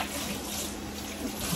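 Water runs from a kitchen tap in a steady low hiss while someone washes up during home cooking of a one-pot vegan Jamaican rundown, close and faint, with a little speech mixed in.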